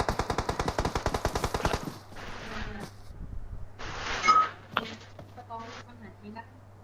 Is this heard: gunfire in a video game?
yes